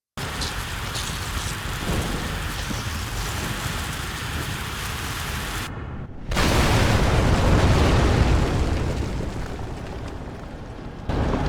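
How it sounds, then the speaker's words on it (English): A thunderous explosion in The Evil Within game booms over a steady roaring wash of noise, cutting briefly to silence before a heavier, louder rumbling blast swells and fades. "The explosion finally clears the road, and the bus gets moving again."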